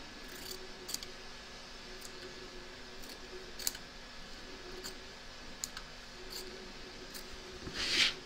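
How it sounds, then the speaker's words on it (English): Scissors trimming excess quilt batting around a stitch line: a series of soft, sparse snips and clicks, close but quiet, ending in a brief louder rustle; no voices. "Trim away the excess batting from around the edge of the stitch line"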